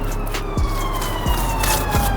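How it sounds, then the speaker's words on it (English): A police car siren sounds from the background on a street, its steady tones held beneath repeated short swooping noises while an E-Class Mercedes engine bay is being cleaned nearby. "Sorry about the police car in the background."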